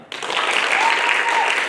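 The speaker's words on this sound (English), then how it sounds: "Perfunctory applause at best." An audience at a comics challenge event breaks into applause after a short quiet lead-in, a moderate, steady clapping that holds for over a second.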